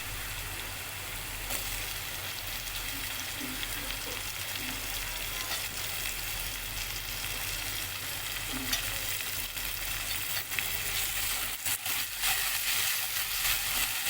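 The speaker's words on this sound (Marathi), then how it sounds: "आता हे मस्त टॅमॅटो आपण परतून घेऊया." Tomatoes fry in a pan for a Mysore pulao, giving a steady, close, continuous sizzle with occasional soft stirring scrapes throughout.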